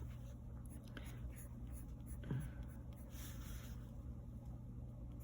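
A pencil sketches loose, jagged strokes on paper, close and very quiet, with soft intermittent scratching broken by short pauses.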